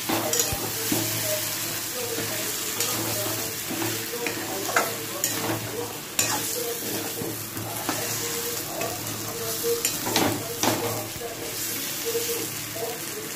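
Onion and potato pieces for an egg-potato curry sauté in hot oil, a steady close sizzle with repeated scrapes and clanks of a spatula stirring the pan.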